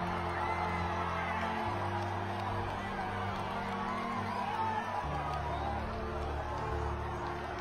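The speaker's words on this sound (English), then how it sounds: "I turned around and filmed a bit of the crowd, and people just jumping up and down, falling off their seats, screaming" Rugby crowd at a McBain Shield match screaming and cheering after a winning kick, a dense, sustained roar of voices with whoops and shouts throughout, loud and close.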